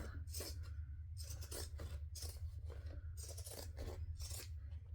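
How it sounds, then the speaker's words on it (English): Zigzag scissors trim excess fabric from a sewing pattern, giving repeated crisp, rasping snips in quick bursts, close up over a low steady hum. "I'm going to get my zigzag scissors and cut off all that extra"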